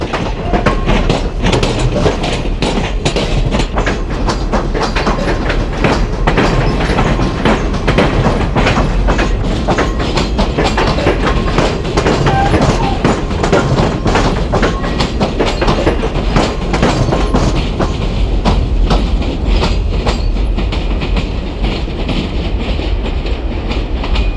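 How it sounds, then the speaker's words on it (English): Amtrak CF7 number 582, an ex-Santa Fe diesel locomotive repainted by Amtrak, hauls a set of Amtrak passenger cars into a Northeast Corridor terminal area, with loud, steady rumble and continuous clickety-clack of wheels over rail joints throughout. "Another Amtrak CF7 number 582 is pulling a set of Amtrak equipment into the terminal area."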